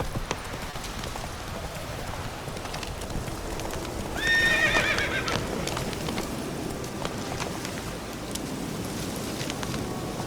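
Geralt's horse Roach from The Witcher 3 gallops with steady hoof clip-clops, then gives a clear, loud neigh midway through, while the galloping continues under a light rain-like wash.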